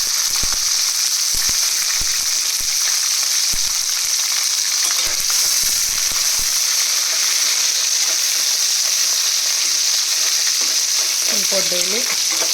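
Onions fry in tomato juice in a pan, giving a loud, steady sizzle with some stirring scrapes early on and a brief voice near the end.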